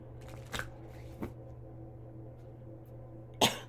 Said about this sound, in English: Shuffle right here in front.